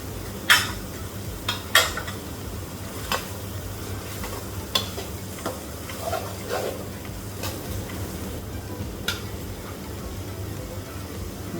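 Diced small tomatoes, six of them, go into a hot pan for a jackfruit and prawn curry, bringing a steady low sizzle under scattered sharp spoon-and-pan clinks and stirring scrapes, with no talk.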